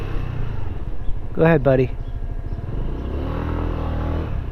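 City road traffic rumbles steadily around a rider on a Harley-Davidson Pan America motorcycle, engine drone and passing vehicles forming a continuous low hum while a voice briefly speaks over it.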